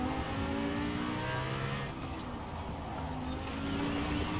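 A Lamborghini Huracan Performante engine in Forza Horizon 4 drones loud and steady as it revs under throttle, with a short dip in pitch and volume midway before pulling strongly again.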